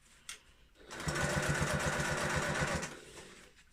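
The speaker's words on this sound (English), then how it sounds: "So I'm just going to go to my longest stitch, and I'm literally just using the width of my foot." A sewing machine set to its longest stitch runs steadily for about two seconds, stitching together fabric lining pieces for a bag. Its motor whirs with a clear, fast rhythmic needle chatter, close and alone.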